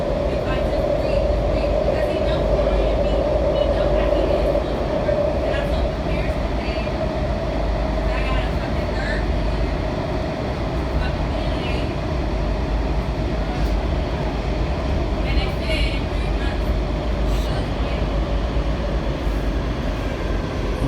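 A Washington Metro Kawasaki 7000-series train rides toward Navy Yard with a steady, loud interior rumble and hum, and faint clicks and rattles come through the drone across the whole ride.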